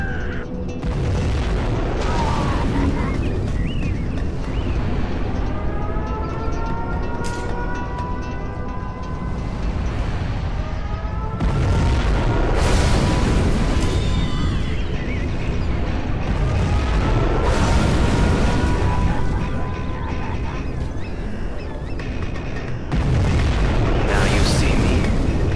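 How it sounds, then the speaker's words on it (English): Heavy booming explosions from nuclear missile strikes in Command & Conquer Generals Zero Hour, a real-time strategy game with China's nuclear general, with long rumbling blasts and rushing noise, loud throughout, mixed with game voices. "We have launched our nuclear missile."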